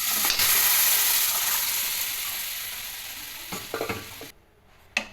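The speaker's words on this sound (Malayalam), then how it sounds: "വേവിച്ച് വെച്ചിരിക്കുന്ന ഗ്രീൻ പീസ് ചേർത്ത് കൊടുക്കാം." Cooked green peas are stirred into a masala frying in a pan for green peas curry, with a loud, steady sizzle and scraping stirs close up that fade toward the end.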